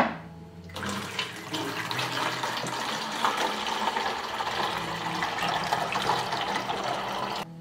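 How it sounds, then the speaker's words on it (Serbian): Water pours steadily through a funnel into a bottle after a brief pause, a continuous splashing gurgle at close range that holds an even level throughout. "Rupu na boci zatvorite sa prstom i sipajte vodu u flašu."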